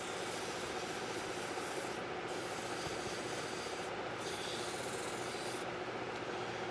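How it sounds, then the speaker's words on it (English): Fine 1000 grit sandpaper rubs steadily on a custom frame, a continuous dense rasping hiss with brief changes in stroke, close and even, with no talk. "this is some fine sandpaper"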